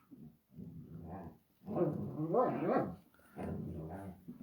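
A dog barks in short clustered bursts indoors, rough, close and fairly loud, with whiny yelps and a brief growl between the barks.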